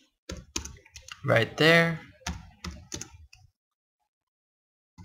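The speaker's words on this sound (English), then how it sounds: "let's go ahead and type out the rest of the letter" Keys clacking on a computer keyboard as letters are typed into a C++ hangman game, a few scattered taps mixed in with a man's close speech.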